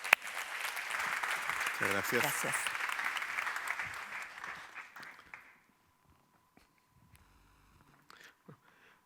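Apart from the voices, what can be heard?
audience applause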